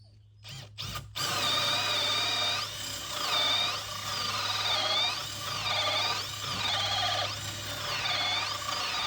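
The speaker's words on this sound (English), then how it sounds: "Hole saw even fits in the drill." A power drill whines with a hole saw, the pitch rising and falling repeatedly as it bites and cuts, loud and close.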